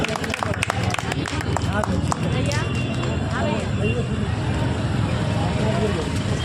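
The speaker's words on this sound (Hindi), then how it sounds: "ज़ोरदार तालियों से इस्तकबाल कीजिए जनाब असद जावेद तुराबी का" A mushaira audience gives loud, dense, sustained applause to welcome a poet. The clapping continues without a break throughout, with crowd murmur underneath.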